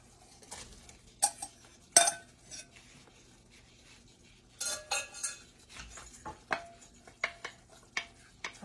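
A metal utensil scrapes and clinks against the bottom of a cooking pan while loosening browned bits for steak gravy, coming in a series of sharp, close scratches and knocks with short pauses between them.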